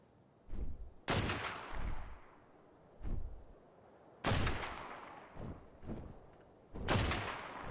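Sparse gunshots in Ark: Survival Evolved, fairly faint and spaced out, about eight separate sharp reports with lingering tails and quiet gaps between them.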